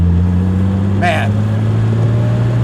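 A Jaguar XKE sports car cruises at about 30 mph, its engine a steady, loud low drone with even harmonics throughout, interrupted only by a brief high chirp midway.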